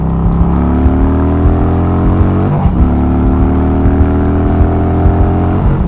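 A loud engine drones steadily up close with a deep, rumbling exhaust note, pitch climbing and dropping through gear changes, with rhythmic ticking clicks.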